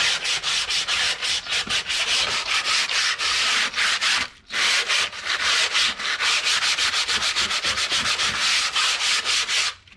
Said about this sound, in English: Then I'm sanding them down.